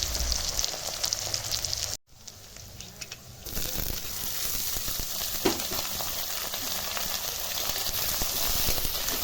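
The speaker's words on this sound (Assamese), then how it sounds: "এতিয়া মাংসখিনি দিয়াৰ পিছত লৰাই আছো।" Boiled pork being stirred and fried in a pan sizzles steadily and fairly loudly, with the scrape of a spoon now and then. A short silent gap breaks the sound near the start.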